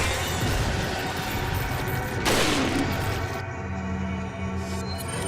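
A single gunshot fired during Resident Evil 4 gameplay in a castle setting, a sharp burst standing out over a steady game soundscape and ambience, with no talking.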